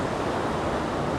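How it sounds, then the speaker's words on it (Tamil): A steady roar of falling water fills the air at Niagara Falls at night, broad and unbroken, like a waterfall close by. "அருவி சத்தம்"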